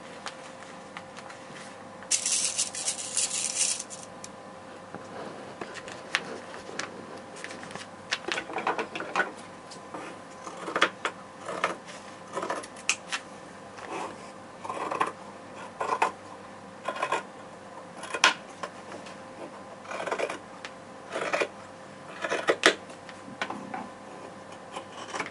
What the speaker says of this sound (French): On les place sur le tissu et on découpe.